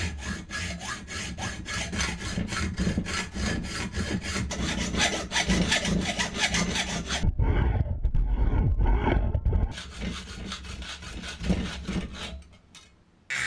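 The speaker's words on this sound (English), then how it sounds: "The first thing to do is to cut to size the square tubing" Square metal tubing being hand-sawn to size, a steady rhythmic rasp of back-and-forth strokes that changes character midway and trails off near the end, heard alone without talk.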